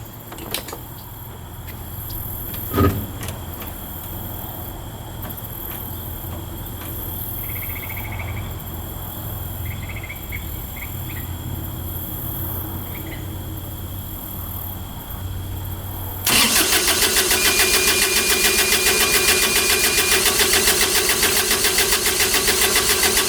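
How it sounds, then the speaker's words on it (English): A cheap Kubota diesel engine from an auction cranks under a low background hum, then suddenly catches at about sixteen seconds and settles into a loud, steady, close-up running clatter. "All right, crank her over."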